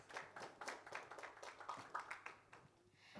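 A small audience at a conference claps for a moderator joining the stage, giving sparse, uneven handclaps at low volume that taper off after a few seconds.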